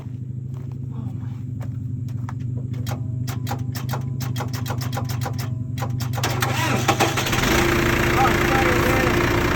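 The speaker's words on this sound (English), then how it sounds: "let's see if we can start this tractor up." A John Deere backhoe tractor engine sputters and knocks unevenly, then catches and settles into a steady rumbling idle, with a brief spoken remark over it.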